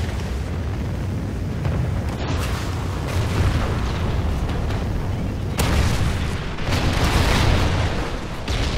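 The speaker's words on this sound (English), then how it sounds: "Friendly Trinity rocket inbound" A Trinity rocket strike in Call of Duty Ghosts multiplayer erupts in sustained heavy rumbling blasts and booms, loud and dense, rolling in waves for several seconds.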